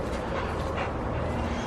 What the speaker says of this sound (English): Hey puppy, how are you? Just a happy dog.